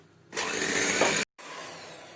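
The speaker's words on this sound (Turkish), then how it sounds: "Mikserle çırpalım." A steady electric hand mixer whirs loudly with a whisking hum as it beats eggs and sugar, cuts out briefly, then resumes at a lower, even drone.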